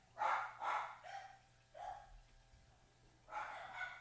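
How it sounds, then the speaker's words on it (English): Several dogs bark in short, sharp bursts, a couple of quick barks, a pause with lower yelps, then more barking near the microphone over a faint steady hum. "So the dogs are going nuts."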